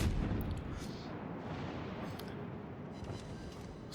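Naval gunfire in World of Warships: Legends, a dense rolling barrage of heavy booming shots that runs without a break for four seconds, loud and close with no voices.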